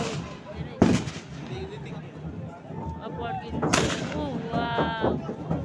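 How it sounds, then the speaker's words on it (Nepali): Two sharp, booming ceremonial gun blasts ring out a few seconds apart over a steady murmur of crowd voices at the Hornbill Festival. "बन्दुक पड्केको धुवा गयो गाइज।"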